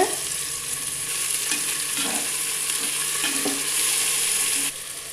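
Tomato and green chili get stirred into sautéed onions in a pan for chicken biryani, giving a steady close sizzle broken by a few scraping stirs, with no talk.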